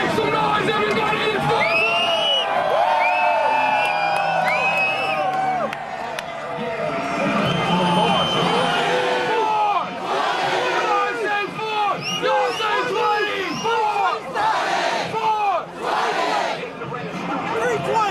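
A large crowd at an unofficial 4/20 cannabis event in Toronto cheers, whistles and shouts continuously, loud and close, with voices rising and falling throughout.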